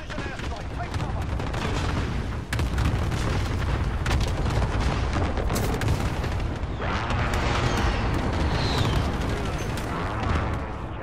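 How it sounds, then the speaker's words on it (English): Dense, continuous battlefield barrage of explosions and gunfire from enemy precision airstrikes in the Modern Warfare 2 video game, loud booms layered with sharp bursts throughout, with faint game voice callouts in the background. "Enemy precision airstrike. Take cover."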